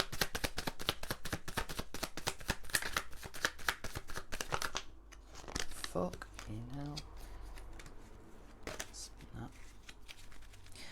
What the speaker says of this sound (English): I'll pull another card for that.